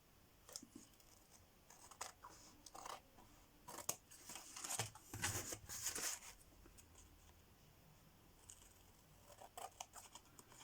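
Scissors snip small scraps of paper close by in quiet surroundings, with bursts of crisp cuts and rustling that cluster in the middle and then thin out.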